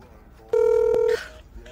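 A telephone gives one sustained electronic ring tone of about half a second, with quieter background sound before and after it.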